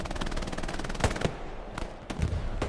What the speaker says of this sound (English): Yeah, MG's already focusing on the point there.